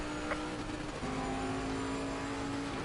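A Ferrari GT3 race car in a racing video game, its engine droning steadily with a sustained tone that shifts pitch as it passes, continuous and fairly loud throughout with no talking.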